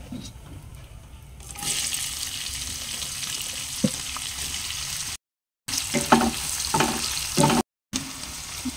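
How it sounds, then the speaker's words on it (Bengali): Thinly sliced onion sizzles in hot oil in a pan with cumin and bay leaf tempering, a steady close frying hiss with brief clinks of stirring and no talk. "পেঁয়াজটা কিছুক্ষণ ভেজে নেব।"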